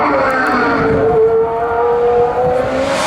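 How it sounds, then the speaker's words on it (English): A Pagani Zonda Revolución with a 6-litre V12 engine roars loudly up a hillclimb course, its high, rising engine note sustained and building to a sharp climb at the end. "It's the 6 litre. Big V12 in the back."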